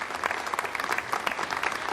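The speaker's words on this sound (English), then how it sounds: "Now we have some applause there" Applause in a rocket launch mission control centre as an Ariane 5 ECA places communications satellites in orbit, a short steady wash of many hands clapping.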